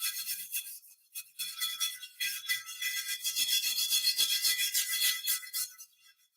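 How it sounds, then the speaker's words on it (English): Steel wool scrubbing rusty cast iron, a bright, repeated rasping rub in uneven strokes, close and fairly quiet, with brief pauses between bursts. "get out my steel wool and start scrubbing"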